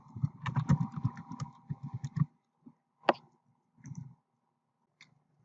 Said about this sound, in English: go to the Windows search bar and type Workbench.